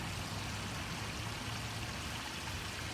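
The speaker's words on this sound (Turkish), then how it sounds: "Burası bildiğiniz boklu dere" A dirty creek in Japan flows with a steady, even rush of water that stays constant throughout, with no voices over it.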